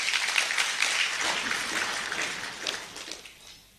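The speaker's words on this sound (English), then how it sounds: "May we give them a thunderous clap." Clapping rises from the congregation at a seminary commissioning ceremony for the seminarians, a lively burst of many hands that stays full at first and then fades out near the end.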